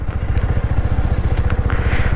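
Motorcycle idling and moving along in first gear while someone learns to ride, a steady close, low rumbling engine pulse running continuously throughout.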